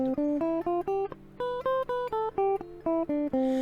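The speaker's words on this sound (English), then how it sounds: "So a scale sounds like this." A guitar plays a scale of single notes, each clearly separated, climbing and then descending at a steady, moderate pace.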